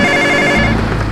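A telephone rings inside a radio advert in GTA San Andreas, giving a loud, steady electronic trill that cuts off partway through.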